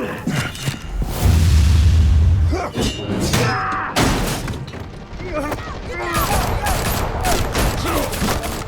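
Gunfire and crashing impacts in the Telltale Batman game, starting with a dense loud volley, then thuds, booms and shattering debris as voices shout and talk over the chaos.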